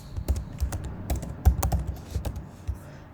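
Someone types on a computer keyboard while coding in Python, producing quick irregular key clicks and taps up close, with no voice over them.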